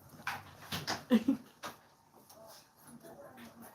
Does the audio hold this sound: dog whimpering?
yes